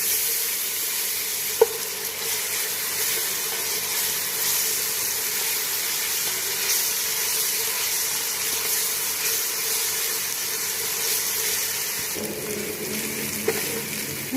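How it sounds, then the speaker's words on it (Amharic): Chopped onions and garlic frying in a pan for a stewed chicken dish, a steady close sizzle throughout with a couple of soft clinks and stirring sounds. "ሽንኩርቱ በዚህ መልኩ እየበሰለ ነው።"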